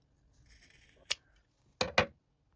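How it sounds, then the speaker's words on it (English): Scissors trim across the fabric corners of a sewn clutch bag. One crisp snip is followed by a quick pair of snips, each close and distinct over a quiet background. "here I'm just trimming across both of them with the scissors"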